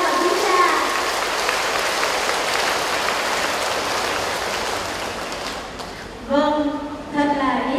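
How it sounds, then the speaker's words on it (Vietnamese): A church pilgrimage gathering of mothers applauding to welcome the bishop and priests, a dense sustained clapping from a large audience that fades out, followed by a voice speaking over a microphone. "con xin mời quý bà cố hiện diện cùng vỗ tay một tràng vỗ tay thật khỏe để chào mừng đức cha và quý cha"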